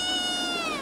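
A shelter cat meows in one long, drawn-out, slightly falling cry, close and clear with no other sounds.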